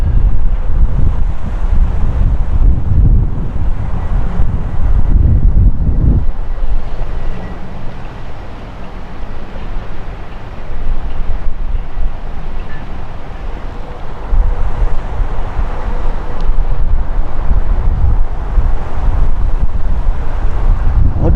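Strong wind gusts in an Idaho dust storm roar and buffet the microphone continuously for about twenty seconds, loud and close, with slight lulls but no clear speech.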